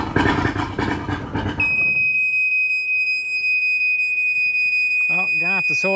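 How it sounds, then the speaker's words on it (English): A steady high-pitched electronic alarm beeps continuously on an old two-stroke outboard motor on a small tinny boat, starting after a burst of engine noise, with someone talking briefly near the end. "I haven't had any luck sorting out the alarm on this thing"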